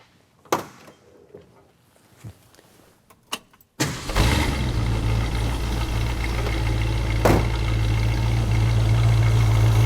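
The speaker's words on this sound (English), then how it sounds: "Let me start it, let's listen to this engine," A 1966 Ford Mustang Fastback's 289 V8 starts after a few faint clicks and shuffles, catching with a sudden loud roar. It then settles into a steady, deep, rumbling idle close by.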